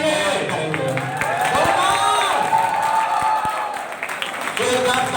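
Crowd at a college fresher fest clapping and cheering, a loud sustained roar of applause with shouts and whoops, and people talking amid the noise.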